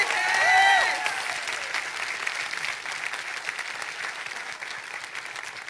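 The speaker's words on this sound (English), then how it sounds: "Can we get a round of applause for Joel?" An RTX panel audience breaks into steady applause and crowd noise, a brief whistle or cheer rising at the start before the clapping settles into a sustained, even roar.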